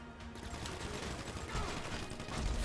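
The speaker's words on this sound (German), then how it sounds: "der kam aber aus dem Nichts, der Schuss" Gunfire in the GTA Online video game, a dense burst of rapid shots rattling continuously for a few seconds, loud and close, with no talk.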